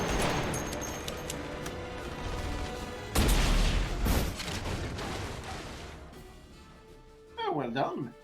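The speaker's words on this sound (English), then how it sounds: "What did I shoot there to cause an explosion?" A big in-game blast goes off in The Saboteur amid steady gunfire and combat noise, a loud broadband burst with rumbling aftermath and a voice talking over the battle.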